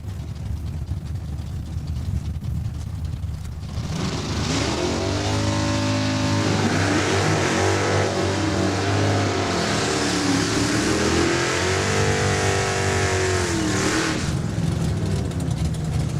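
A drag racing car, a Mopar, accelerates hard down the quarter mile at Saskatchewan International Raceway, its loud engine roar climbing steadily through rising gear sweeps for about ten seconds before cutting off.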